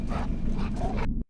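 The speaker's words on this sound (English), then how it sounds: "You can't run from the dogs. They probably already smell you." Dogs barking in a film scene, a close run of sharp overlapping barks and yelps for about a second before cutting off abruptly.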